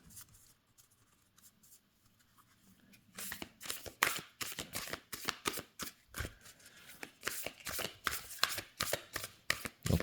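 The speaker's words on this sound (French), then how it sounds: "Donc les cartes se mélangent relativement bien, assez bien on va dire." Oracle cards being shuffled by hand, quiet at first, then a rapid run of crisp riffling slaps and flutters repeating close up for several seconds, with no talk over them.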